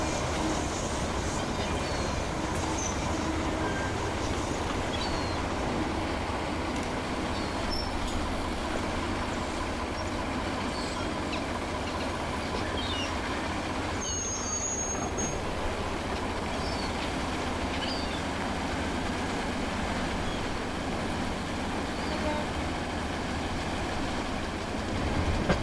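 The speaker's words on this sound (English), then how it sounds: "Just then a passenger service rushes past with a standard class 4 in charge." A passenger train hauled by a Standard Class 4 locomotive rushes past on the main line, a loud sustained roar of rolling wheels and rattling carriages with faint rhythmic clatter that holds steady for the whole stretch.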